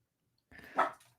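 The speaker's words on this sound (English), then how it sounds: "the dogs are barking." A dog gives a single short, quiet bark, heard faintly in the distance after a moment of near silence.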